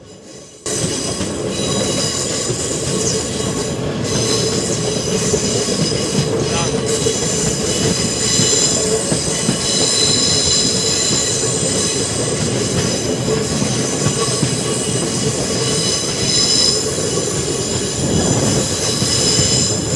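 Loud, continuous rumble of a train crossing the thirteen-arch bridge on the Sengottai–Punalur line in monsoon season, with metallic wheel squeal and rattling carriages, close and unbroken for the whole stretch.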